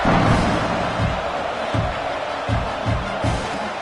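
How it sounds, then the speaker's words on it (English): A stadium crowd roars steadily in a football video game, a loud, continuous wash of cheering broken by dull periodic thumps, with no speech. "this crowd is feeling themselves after that last drive"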